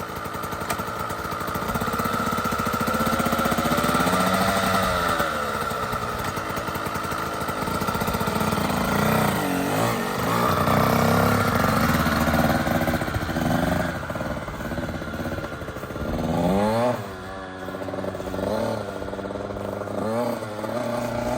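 A 2007 KTM 85SX two-stroke dirt bike engine runs steadily and close by for the whole stretch, its pitch rising and falling in several revs, with a slightly bogging, uneven tone.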